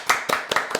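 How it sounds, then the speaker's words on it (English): A few sharp, close hand claps from a small group in a podcast setting, four distinct bursts spaced roughly a quarter second apart. "I don't think we're supposed to clap."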